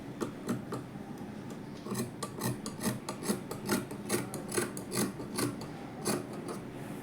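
Scissors slice through blouse fabric, cutting a princess-cut blouse piece down the middle in steady rhythmic rasping snips, close and clear with no talking.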